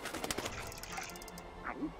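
Pigeons coo softly in the video game Stacking, a couple of faint low calls heard among quiet clicks and background game sounds.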